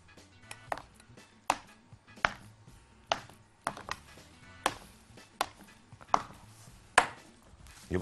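A knife cuts through baked aziziya dessert in a tray with a steady series of sharp taps and thuds against the pan, about a dozen distinct close chops at a regular rhythm.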